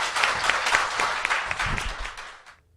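Brief burst of applause from a small studio audience, a dense patter of clapping that holds steady for a couple of seconds before tapering off quickly into silence.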